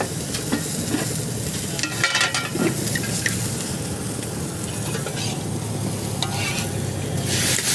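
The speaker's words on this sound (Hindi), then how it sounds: "प्याज भी इसमें थोड़ा सा डाले हैं और इसको अच्छे से फ्राई कर रहे हैं" Onions sizzle and fry in a pan for egg curry at a roadside dhaba, a steady dense hiss with stirring scrapes throughout, close and loud, with no talk over it.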